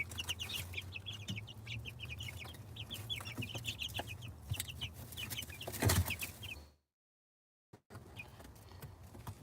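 Chickens, including meat birds, cluck and chatter steadily at close range, with scattered rooster-like calls, a brief gap of silence near the end before the flock resumes.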